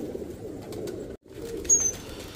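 Pigeon cooing softly while being handled during care after medication, a low steady murmur across the clip with a brief pause midway and a faint higher chirp near the end.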